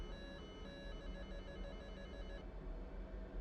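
Repeating electronic tones from an F/A-18C cockpit during a built-in test, a rapid pulsing warble that continues steadily for a few seconds over a constant cockpit hum, then drops off, with no voices.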